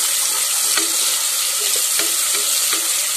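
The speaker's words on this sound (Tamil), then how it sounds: "எண்ணெய் லைட்டாக காஞ்சிச்சு, நம்ம டேரெக்டாக வெங்காயத்து போட்டுடலாம்" Sliced medium onion hitting hot oil in a pan for chicken pulav: a steady, loud sizzle fills the clip while a spoon stirs, adding a few soft scraping taps, with no voices.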